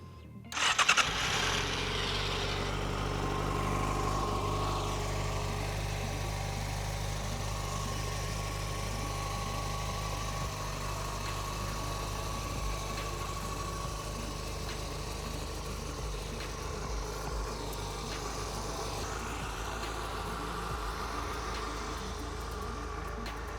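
A Yamaha FZ6 motorcycle fitted with its stock factory exhaust cranks and fires at the start, then settles into a steady, close idle that holds evenly for over twenty seconds with no talking.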